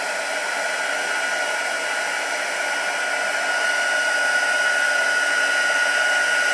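A heat tool blows continuously nearby, warming the hearts on a Valentine shaker card with a steady, loud whooshing hiss that swells slightly toward the end, with no talking.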